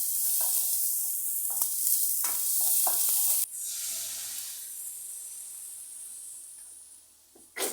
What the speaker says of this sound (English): So I'm going to put my onion in there. And you're just going to cook this for like a minute or so.